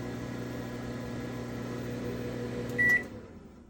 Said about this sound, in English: the sound of the microwave is normal